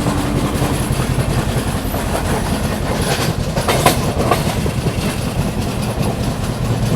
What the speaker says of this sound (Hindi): यहाँ पे अपनी क्रॉसिंग हो रही है मुंबई मडगांव कोंकण कन्या एक्सप्रेस के साथ।